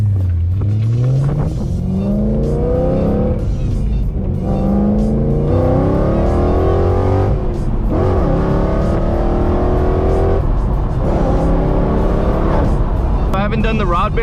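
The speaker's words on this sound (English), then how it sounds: "you guys can still hear the super nice V8" A BMW E90 M3 with its V8 engine revs loudly while driving on a canyon road, pitch climbing and falling through gear changes, close and continuous, with a voice talking over it.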